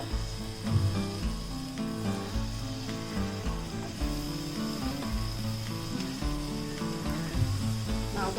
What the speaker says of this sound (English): Now we will add oil in a pan, 2 to 3 tablespoons. Now we'll add these bananas.